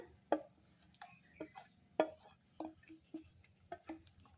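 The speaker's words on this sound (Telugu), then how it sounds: "స్టవ్ బంద్ చేసుకుని ఈ పోపుని రైస్లో కలిపేసుకోవడమే" Intermittent clinks and scraping of a spoon stirring tempering through cooked rice for tamarind pulihora, irregular taps against a vessel over a low steady hum.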